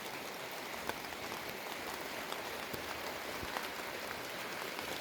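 Steady rain falling outdoors, a continuous even hiss of droplets with occasional faint taps on surfaces, moderately quiet and unbroken throughout.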